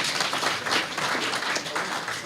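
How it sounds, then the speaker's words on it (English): A large audience at a fatherhood convention claps steadily for the High Commission, a dense and sustained round of applause that holds at an even level from start to finish without pause. "A round of applause to the High Commission"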